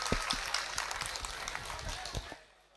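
Scattered claps from an audience greeting the president at a university gala night, a brief uneven burst of hand claps that fades toward the end.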